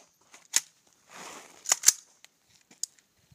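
Rifle shots fired through a Lantac Dragon DGN556B muzzle brake at targets about 30 yards away, with several sharp, crisp reports spaced out irregularly and a brief rustle between them.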